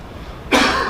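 A single sharp cough bursts out after half a second of quiet room tone, loud and close, lasting to the end.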